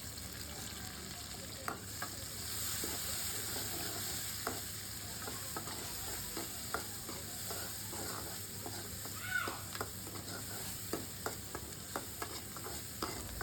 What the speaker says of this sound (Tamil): இதெல்லாம் சேர்த்து நல்லா வந்து வதக்கிக்கலாம்.